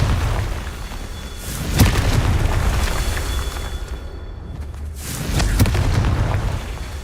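A Confringo spell explodes in Hogwarts Legacy: a deep, rumbling boom swells to a roaring burst, fades slightly, then a second heavy blast erupts and rolls on, loud and close with no talking.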